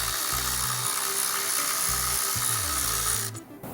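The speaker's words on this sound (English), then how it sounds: "we'll use a 12mm socket, and I'm using an electric ratchet" An electric ratchet fitted with a 12mm socket undoes a bolt for a wire harness on a 3rd gen Tacoma, a steady motor whir with low rhythmic ratcheting pulses running nearly throughout, then cutting off near the end.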